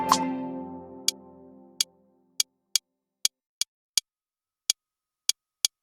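A single clav-like keyboard note rings and fades in a home-produced Afro highlife beat, followed by sparse, crisp ticking percussion hits placed slightly off the grid, with a bouncy, loose feel against silence.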